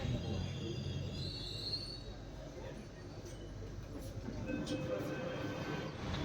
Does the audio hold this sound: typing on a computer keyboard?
no